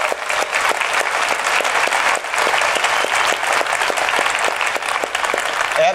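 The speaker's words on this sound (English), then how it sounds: "Let's give them a big round of applause." A big round of audience applause at a cybersecurity conference, loud and dense clapping from a large crowd that holds steady for several seconds, with sharp individual claps standing out near the front.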